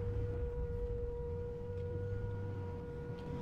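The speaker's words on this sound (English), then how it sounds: "Siren just started." Civil defense siren in a Gmod tornado survival game, a steady sustained wail holding one pitch throughout, loud and continuous over low background rumble.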